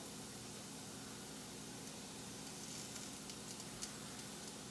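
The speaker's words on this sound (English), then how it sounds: "And finally, add your chorizo." Chorizo with potatoes sizzles and fries steadily in a pan, a soft continuous crackle with occasional small pops and stirring sounds toward the end, fairly faint and without voices.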